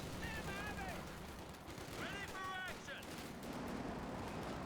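Sherman tanks and an anti-tank gun fire on a Jackson tank destroyer in Company of Heroes 2, with a steady low battle rumble and distant booming shots. A commentator talks over it for much of the clip.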